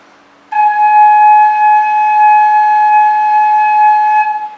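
A single sustained note on a Thai khlui flute rings out clear and loud for about four seconds, steady in pitch, then stops.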